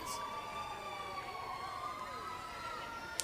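Distant fire engine and police sirens wail and sweep steadily in the background at a Fourth of July parade in Bridgewater, overlapping tones holding for a few seconds with a faint outdoor murmur.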